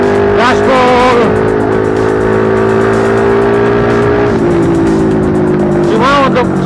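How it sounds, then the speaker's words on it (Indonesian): A motorcycle fitted with a homemade muffler is ridden at night through the city of Ambon, its exhaust giving a loud, continuous drone that rises and falls with throttle, with a person talking over it. "Cuma untuk suara knalpot saya sudah agak mendingan, tidak seperti yang kemarin-kemarin yang berisik."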